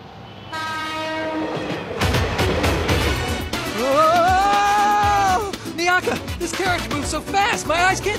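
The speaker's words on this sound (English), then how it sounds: "It's not a carriage. It's a train, Tamahome." A train passes in an animated series scene, with loud horn-like tones and rumbling rail noise building and sweeping through over several seconds amid dramatic music, with no speech over it.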